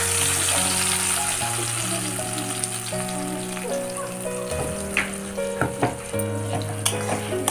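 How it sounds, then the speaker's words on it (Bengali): Spice paste poured slowly into hot oil for a Bengali potol, potato and rohu fish curry, sizzling steadily and loudly with scattered crackles and pops, close by, with no talk. "এবার আমি মশলাটাকে আস্তে করে ঢেলে দেবো।"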